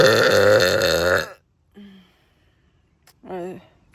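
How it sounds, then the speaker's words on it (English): A long, loud, resonant human burp fills the first second close to the mic, followed by a short quieter vocal sound and then another brief voiced burst after a pause. "1 out of 10, how was that burp?"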